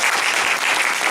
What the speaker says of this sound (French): Je crois qu'il mérite d'être applaudi.